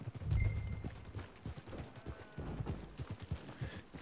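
Horse hooves in Red Dead Redemption 2 clip-clop at a steady trotting pace over a low rumbling background, with faint mechanical sounds now and then.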